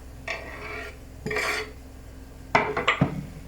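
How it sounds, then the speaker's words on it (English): A spoon scrapes and clinks in a bowl while tinned salmon and chopped spring onion are mixed, in three or four short bursts separated by quiet gaps, close and fairly soft. "And then just give it a really good smush around."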